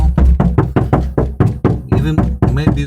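Knuckle knocks on a Subaru Legacy door panel after sound deadening, a quick series of about ten firm, dull thuds in an uneven rhythm, loud and close, with a voice heard near the end.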